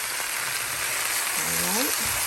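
Oxtail fries in a skillet with potatoes and carrots, giving a dense, steady sizzle close by, with a brief rising voice-like sound partway through.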